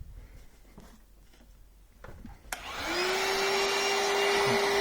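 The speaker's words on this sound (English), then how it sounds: "Ideally, I'd grab a vacuum." A vacuum cleaner switches on with a sharp click, then settles into a loud, steady whine and rushing drone after a few quiet, faint rustles.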